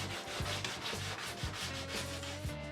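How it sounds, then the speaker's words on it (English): Rhythmic back-and-forth sanding of wood on a DIY car-top boat, a close, steady scratchy rubbing in repeated strokes. "And a bit of sanding now."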